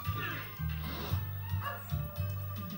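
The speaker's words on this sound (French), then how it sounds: "Il y a un cabot qui est hyper gentil, il y a un chien de la casse" A dog in the PS1 game Alundra gives repeated short yips and whimpering barks in an uneven rhythm over a steady low game music loop.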